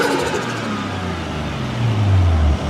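A Nissan RB straight-six in a 280ZX fitted with an R34 turbo intake revs loudly and close up, climbing in pitch over a couple of seconds before the rev drops away.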